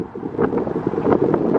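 Strong gusty wind buffeting the microphone beside a lake, a loud rushing roar with uneven surges and no talking.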